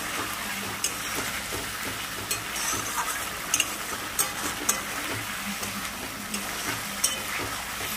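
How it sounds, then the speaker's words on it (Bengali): Spice masala frying and being stirred in a pan for a vegetarian foli fish curry with bori, a steady close sizzle with occasional sharp scrapes and taps of the spoon, no voices. "চলো মশলা প্রায় আমার কষানো হয়ে গেছে।"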